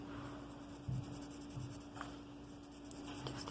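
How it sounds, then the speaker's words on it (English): Pencil scratching on paper in short, light strokes and steady scribbling while drawing a lemon study, close and quiet over a faint electrical hum, no talking. "we're going to just have a bit of pencil work inside"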